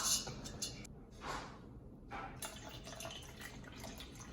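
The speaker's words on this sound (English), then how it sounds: "I'm gonna start pouring. Oh, so you pour until it makes it wet." Liquid for homemade lemonade is poured from a container in a steady, wet trickle with faint dripping and splashing, close by, without talk.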